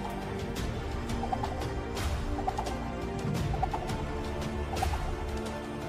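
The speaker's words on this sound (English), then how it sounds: "Chickens!" Game fowl calls in Minecraft, short repeated clucking bursts in a loose rhythm over a busy, steady background bed of game sound, with no talk.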